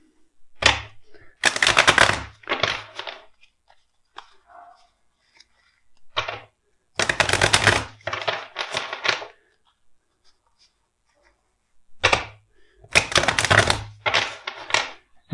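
Tarot cards are shuffled in three quick riffling bursts, each a rapid flutter of clicks, separated by quieter pauses with faint handling noises.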